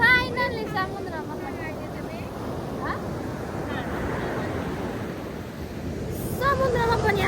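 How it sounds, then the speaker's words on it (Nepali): Sea waves washing onto a shore, a steady broadband rush with wind buffeting the microphone, while people talk and a voice comes and goes over it. "समुद्रमा पनि आइपुगेको अवस्था यहाँ बाह्रकुटी हेरी कसको नाम लेखेको बाबु नानी कति धेरै छाल हौ"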